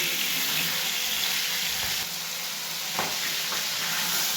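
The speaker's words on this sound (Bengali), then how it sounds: "এই রেসিপির জন্য এই জ্যান্ত মাছটা এইভাবে আমি ভাজবো।" Live fish shallow-frying in hot oil in a pan, a loud continuous sizzle and crackle close up, steady throughout with a few brief spits, no voices.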